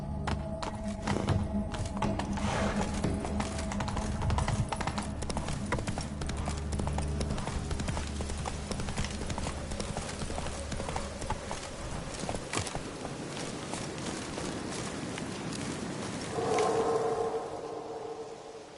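Horse hooves clip-clop steadily through nearly the whole stretch in The Witcher 3, a continuous close trotting rhythm over a game soundscape, easing off near the end.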